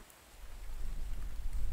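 Rain falls in The Infected survival video game, a steady wash of drizzle and patter that swells slightly louder over nearly two seconds, with no voices.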